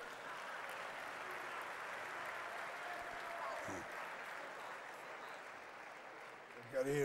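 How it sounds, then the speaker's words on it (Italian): Steady applause from a crowd at a Lega Nord party congress fills the whole stretch, an even wash of clapping that fades slightly before a voice cuts in at the end. "Facciamogli un applauso."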